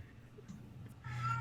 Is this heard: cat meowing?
yes